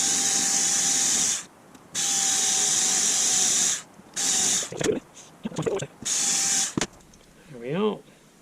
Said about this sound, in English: I'm just going to try and drill out the spot welds